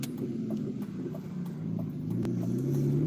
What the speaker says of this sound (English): Oh yeah, that's our 6-cylinder